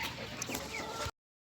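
Chickens on a small farm cluck a few quick, close notes over a light background hiss before the sound cuts off abruptly.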